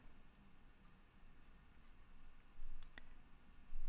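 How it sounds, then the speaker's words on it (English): A couple of sharp mouse clicks near the end, faint and close, over a soft hiss of room noise. "I'm just going to click WAV and then click export to disk"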